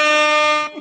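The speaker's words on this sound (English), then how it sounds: "Hit the air horn sound effect." One short, blaring air horn blast, loud and brassy, held for under a second before cutting off.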